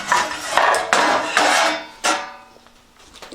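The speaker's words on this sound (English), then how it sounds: "very heavy griddles." Heavy antique cast griddles are handled and set down, giving loud, ringing metallic clanks in quick succession, close up, with a final lighter knock as the ringing fades.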